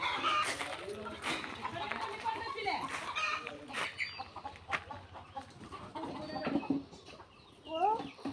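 Several farmyard chickens cluck and squawk nearby in irregular bursts, some sharp and rising, with a person talking intermittently among them.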